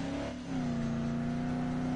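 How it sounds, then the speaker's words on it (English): Car engine revving in a post-apocalyptic island survival video game, a loud steady mechanical drone that briefly dips then rises and holds at a constant pitch, heard alone without talk. "Just hop in this car."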